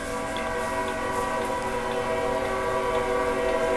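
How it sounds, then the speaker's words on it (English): A nearby train passes and blows its horn in one continuous, loud, steady blast over the rumble of the cars, with no one talking. "It's a train coming. Can you guys hear that? The trains have to blow their horns"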